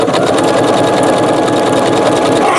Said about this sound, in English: let's continue sewing